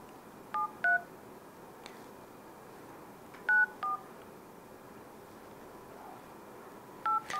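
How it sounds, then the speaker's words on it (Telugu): A phone number is dialed on a telephone keypad, heard as short faint paired tones in small clusters separated by pauses over a quiet hiss, with no voices. "ఇంకొకసారి నేను డేవిడ్కి కాల్ చేస్తాను."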